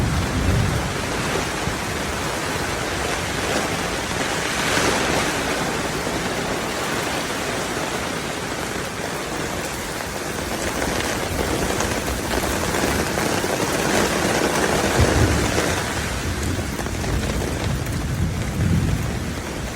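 Heavy rain pours steadily with deep rumbles of thunder rolling through, loud and continuous with no voices, recorded outdoors during a paranormal investigation trip.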